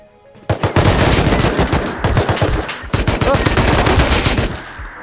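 AK rifle firing in a video game: rapid, loud automatic bursts hammering close by, broken by two short pauses, before trailing off near the end.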